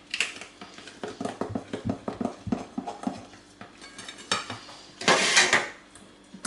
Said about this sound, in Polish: I teraz ciasto przekładam do formy.